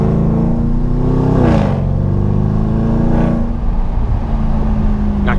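A Porsche Panamera accelerates hard, its loud engine note climbing in pitch, dropping briefly as it shifts, then rising again in a strong, continuous roar close to the microphone.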